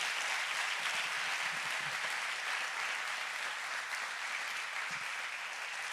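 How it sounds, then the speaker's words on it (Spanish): Strong, sustained applause from a church congregation during a Spanish-language sermon, a thick wash of many hands clapping at a constant level throughout. "dale ese aplauso fuerte al Señor"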